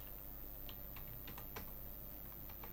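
Quiet, steady keystrokes on a computer keyboard while entering a date in Microsoft Word 2019, light irregular clicks tapping along continuously, close to the microphone with no voices.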